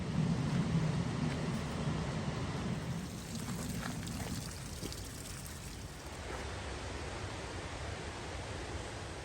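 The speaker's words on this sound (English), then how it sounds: "You can hear the waterfall now." A waterfall in a Welsh temperate rainforest roars as a steady, broad wash of falling water, continuous and moderately distant, with no voices.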